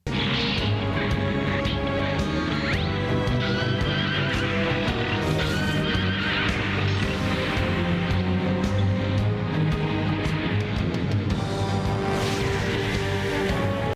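A horse in the G Gundam anime neighs and whinnies loudly several times, with clip-clopping hooves and a dense soundtrack running underneath throughout.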